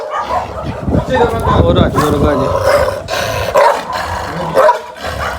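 An aggressive Gull Terrier barks and growls up close in loud, repeated bursts, mixed with whimpers, while people talk over it.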